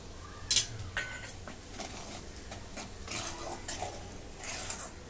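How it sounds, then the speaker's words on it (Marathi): Powdered sugar and spices are stirred into cooled oil, with a spoon clinking and scraping against a metal pot in a few sharp taps followed by softer, intermittent stirring sounds, close and fairly quiet. "आता त्याच्यामध्ये पिठी साखर आणि हे सर्व मसाले मिक्स करून घेते"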